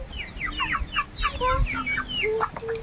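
Native chickens on a farm cluck and chatter close by, a busy overlapping series of short calls with a few longer squawks, no talking.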